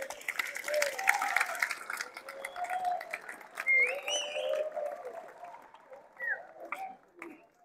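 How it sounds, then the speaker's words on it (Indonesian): Vocational school students at a school election outreach session clap in a fairly faint, scattered burst, mixed with cheering voices and shouts across a hall. "Tepuk tangan buat kalian semuanya."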